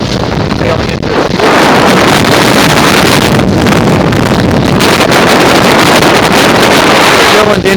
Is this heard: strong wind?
yes